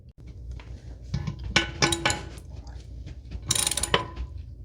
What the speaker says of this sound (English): Snug down the bolts very gently.